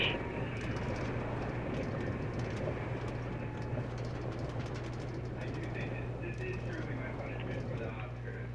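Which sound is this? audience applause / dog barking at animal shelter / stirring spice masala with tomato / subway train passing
subway train passing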